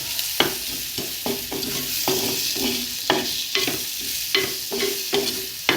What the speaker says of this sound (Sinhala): කාලා ඒක හොඳට තෙලේ බැද ගන්න.